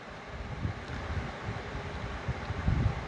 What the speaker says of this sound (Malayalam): കാറ്റടിക്കുന്നുണ്ട്, നീ ഊതുന്നതിൻ്റെ ആണോ?